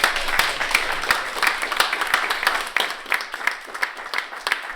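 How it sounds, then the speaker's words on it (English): An audience gives a round of applause at a coffee festival, with dense, steady clapping from many hands filling the space and sharper individual claps standing out, close and fairly loud for several seconds. "Can we just give everybody a round of applause?"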